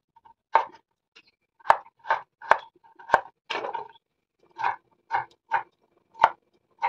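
Brinjal being chopped on a board for Odia dalma, a run of about a dozen separate knife strikes in an uneven rhythm, close and clear with quiet gaps between them.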